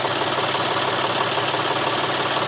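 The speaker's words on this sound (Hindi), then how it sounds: "हमारा ट्रैक्टर स्टार्ट हो चुका है और इसकी बहुत ही अच्छी आवाज़ है।" A John Deere 5310 tractor engine idling after an engine repair, a steady, dense diesel clatter that stays close and even throughout without talk.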